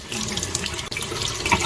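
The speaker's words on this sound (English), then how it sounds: "So I'm gonna go ahead and rinse off my apples." Tap water runs steadily into a kitchen sink while apples are rinsed, giving a close, continuous splashing hiss with small shifts as the stream hits the fruit.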